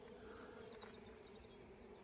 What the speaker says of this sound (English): There's a bee hive forming about 20 million bees in the tree behind me.